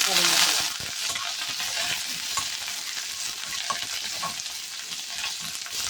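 Mustard seeds frying in hot oil for sambar give a steady close sizzle sprinkled with small sharp pops and crackles, along with some stirring.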